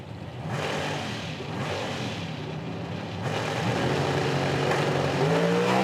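Nitro drag cars in an IHRA Outlaw Nitro Series race at Hebron launch with a loud, sustained, rough engine roar that swells and grows louder as they charge down the strip, with no voices.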